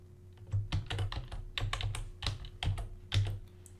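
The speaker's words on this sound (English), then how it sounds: "you need to start typing that" Rapid, uneven clicking of keys as code is typed on a computer keyboard. Close and fairly quiet, with bursts and short pauses, over a faint steady hum and no speech.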